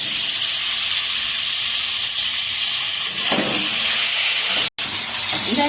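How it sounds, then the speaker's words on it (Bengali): Chicken dropped into a hot pan of fried masala with tomato and salt for chicken chowmein gives a steady broadband sizzle throughout, with a brief scrape of stirring near the end. "এবারে কি চিকেনটা দিয়ে দিচ্ছি।"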